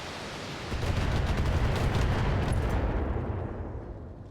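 Shredder turrets fire in the BattleTech strategy game, a dense rumbling barrage of gunfire and impacts that swells quickly, holds steady, then tails off, loud and continuous with no voices.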